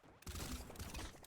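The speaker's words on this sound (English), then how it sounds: "Oh god, the machine gun." Rapid machine gun fire in the top-down arena shooter Brotato, a dense continuous rattle of quick shots layered with game effects, loud and steady throughout.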